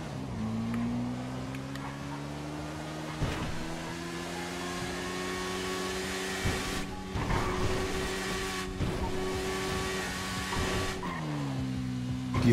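Kawasaki Ninja H2R motorcycle in GTA V with a big exhaust, a sustained mid-pitched engine drone holding steady revs with brief shifts and drops, loud and continuous without talk.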